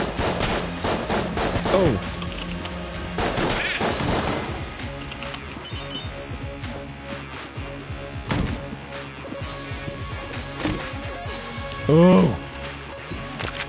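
Rapid gunfire bursts from the video game Enter the Gungeon, with sharp cracks and volleys scattered irregularly across the clip, loud and close, along with game effects and a brief voice exclaiming.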